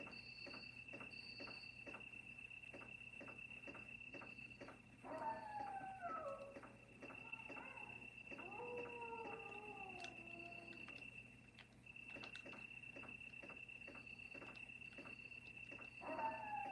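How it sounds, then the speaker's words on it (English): Dogs howling in the Resident Evil video game, several drawn-out rising and falling wails in the middle over a steady chirping, insect-like game ambience with regular ticking. "There's got to be dogs past this thing here."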